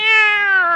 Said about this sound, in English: The way this cat eats is a caution.